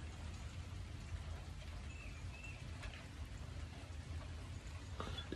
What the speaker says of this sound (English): You can see it's raining.